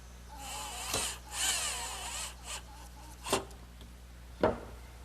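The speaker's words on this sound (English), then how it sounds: "I'm going to fasten them to the lower cross member with a screw." Screws driven into wooden Adirondack chair slats at the lower cross member, a few short bursts of a power driver close by, separated by quiet pauses and light handling noise.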